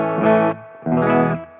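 An electric guitar played through the clean amp on a Line 6 POD GO, two ringing strummed chords, each sustaining about half a second before cutting off, close and clear with no talking.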